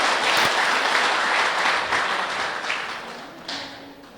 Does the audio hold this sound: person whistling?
no